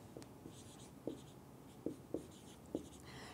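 Pen strokes scratch across paper as a squared plus b squared is written out by hand, with several short, distinct taps and scrapes spaced irregularly against a quiet background.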